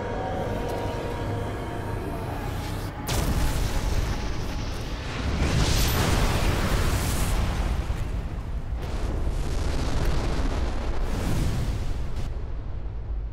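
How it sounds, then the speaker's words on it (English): Distant explosions of a collapsing factory and Nihilanth's lair in the video game Black Mesa: Xen, a sustained rumbling roar that swells in several heavy waves over a steady low background, with no talking. "you get to see the entire factory and Neolith's lair explode from the distance"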